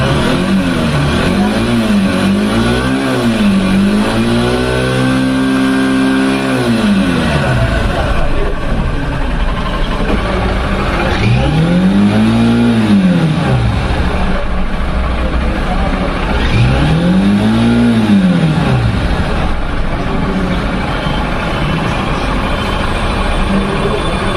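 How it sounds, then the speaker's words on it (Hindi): A motorcycle's exhaust rumbles close by as the throttle is blipped several times quickly, then held in one longer rev, followed by two more spaced revs. "एग्जॉस्ट नोट सुनिए, मैं थ्रॉटल देता हूँ।"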